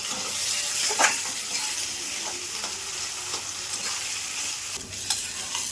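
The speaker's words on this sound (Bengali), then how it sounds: "এই পোস্তাটা ভালো করে একটু কষে নিচ্ছি" Poppy seed paste sizzles softly in a pan with salt, cumin powder and a little sugar, over repeated scraping strokes of a spoon as it is stirred; no one speaks.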